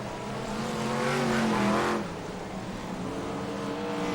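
BriSCA Formula 1 stock cars race on the oval at Kings Lynn, their engines roaring steadily as one swells louder while passing near and then falls away into a continuous race drone.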